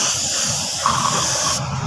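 A short hiss of spray being applied to a motorcycle part during a paint job, a steady aerosol burst lasting under two seconds that cuts off near the end, close and moderately loud.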